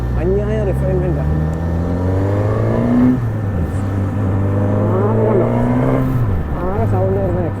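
A Suzuki GSX-S1000 motorcycle under way gives a smooth, refined exhaust drone, its steady engine note rising and falling with the throttle in continuous, close-up tones.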